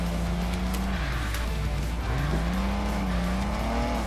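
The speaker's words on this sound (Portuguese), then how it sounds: "Vou dar um zerinho aqui, ó." A car in an open-world car mechanic video game spins donuts, its engine droning steadily while tires squeal in long wavering whines that rise and fall, loud and continuous with no talking.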